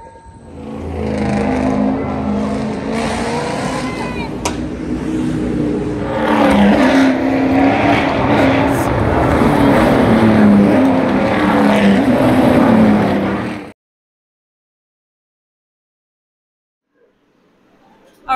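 Ute race cars thunder around the Gold Coast street track in Queensland, engines roaring loud and steady for about thirteen seconds with rising and falling revs, then cutting abruptly to near silence.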